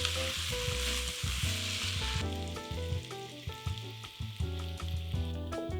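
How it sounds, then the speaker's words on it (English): Meat, vegetables and peppers stir-frying in brown sauce, with a steady close sizzle and the scrape and clatter of stirring in the pan, no voices. "Lastly, add in the peppers. Stir fry until all the ingredients are ready."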